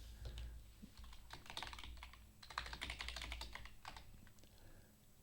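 Fingers tap on a computer keyboard in quick irregular bursts of close, faint clicks and clatter over a low steady hum, with short pauses between the runs.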